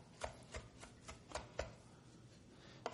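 A flat or rounded blade knife rocks through fresh parsley on a cutting board, giving soft, evenly spaced chopping taps, faint and close, with a low background hum and no talking.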